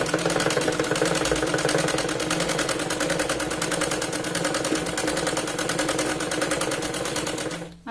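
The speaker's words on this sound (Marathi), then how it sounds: "याच पॉइंट पासून आपण डबल शिलाई घेत शोल्डर पर्यंत स्ट्रेट यायचंय" Sewing machine running continuously at a steady, even pace, stitching a double seam straight up a kurti's fabric to the shoulder, close and loud with no talk until it stops at the end.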